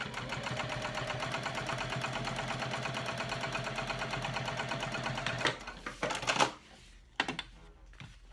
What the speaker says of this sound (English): then top stitch using 1/8 seam allowance